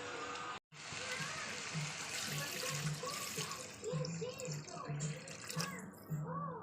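Hot water is poured into a pan of katla fish curry with potol and potato, a close, steady splashing pour with bubbling and gurgling, broken by a brief drop near the start.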